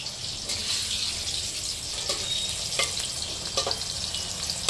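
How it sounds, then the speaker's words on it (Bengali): Pumpkin pieces fry in a pan for a home-cooked Bengali bhog, giving a steady, close hiss of oil with a few sharper crackles and stirring sounds, and no talking. "কুমড়োগুলো হয়েছে, আর একটু ভাজা হবে"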